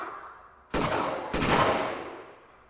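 Two loud, close gunshots from AI units firing in an indie game-jam project, the second following about half a second after the first, each leaving a long booming reverberant tail.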